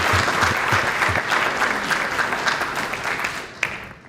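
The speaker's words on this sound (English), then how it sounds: "we already gave it a big round of applause" A city council meeting crowd claps in a sustained burst of applause that is loud and dense at first, then slowly fades toward the end.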